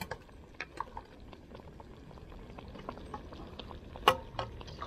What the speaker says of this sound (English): Now that our coconut's been simmered about 5 minutes,